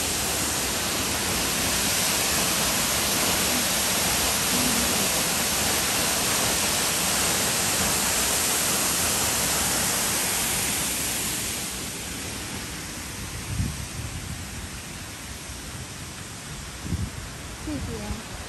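Cascade Falls in Mission, heard from a chain bridge facing it, a loud broadband roar of falling water that drops in level partway through, with occasional footsteps and voices nearby.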